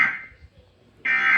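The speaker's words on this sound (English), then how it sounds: "They just did the EAS headers, I guess." EAS emergency alert header tones broadcast from a TV, two loud electronic data bursts separated by a short quiet gap, heard in a room with no talk over them.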